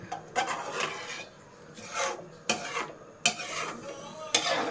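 A spoon scrapes and stirs ginger curry in a large pan in rhythmic, rasping strokes roughly once a second, close and fairly loud, with no talking.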